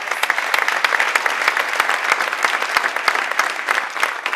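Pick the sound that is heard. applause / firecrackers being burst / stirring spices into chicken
applause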